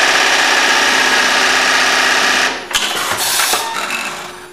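A Brother RH-9800 industrial sewing machine runs with a loud, steady mechanical whir for about two and a half seconds, then stops abruptly, leaving a few scattered clicks and knocks.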